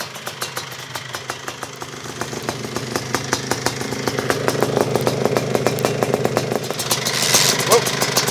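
Quad ATV engine fitted with a swapped 40mm Keihin carburetor running at a fast, steady idle, a rapid pulsing putter that builds slightly in loudness, nearby and with no voices over it.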